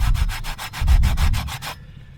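Rapid, even back-and-forth sanding strokes, about a dozen quick scrapes in a steady rhythm, loud and close, then stopping abruptly.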